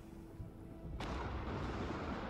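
A sudden thunder crack bursts out in the game Lost Ark, followed by a heavy, continuous rumbling roar that stays loud to the end.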